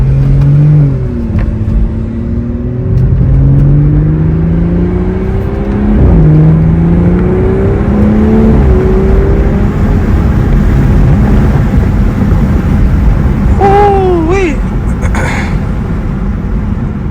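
A car engine warming up idles and rises in pitch through a few revs, a steady low rumble close by, then settles into a constant drone.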